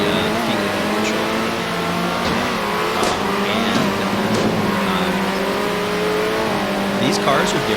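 Race cars in the arcade racing game Circuit Superstars drive continuously, with engines revving and whining, some tire squeal, and steady loud motor drone throughout while someone talks over it.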